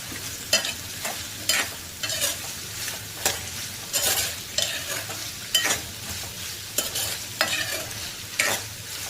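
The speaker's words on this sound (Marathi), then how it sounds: "परतून घेऊया। मी एक बटाटा, एक वांग आणि एक शेंग," Potato, brinjal and drumstick pieces sautéing in an oiled pan, heard as a steady close sizzle broken by repeated scraping stir strokes of a spatula, with no speech.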